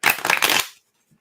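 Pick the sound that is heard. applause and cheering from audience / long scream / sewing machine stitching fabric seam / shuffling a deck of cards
shuffling a deck of cards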